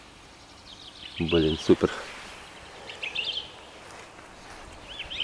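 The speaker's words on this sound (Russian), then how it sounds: "И птички заливать вообще." Small birds sing in a country garden plot in early spring, bright chirping phrases heard faintly at a distance in several bursts, while a person speaks briefly over them.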